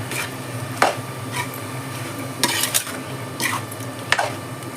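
Ginger garlic paste is stirred into chicken curry in a pan with no oil added: scraping and spoon knocks against the metal come in a few irregular bursts over a low background, close by with no speech.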